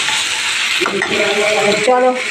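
Fish coated in Kashmiri red chili powder sizzles steadily in a pan while being sauteed and stirred, a continuous close hiss running under a woman's brief speech.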